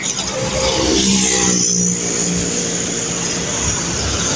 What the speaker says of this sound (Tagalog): tatawid kami at ang dami namang sasakyan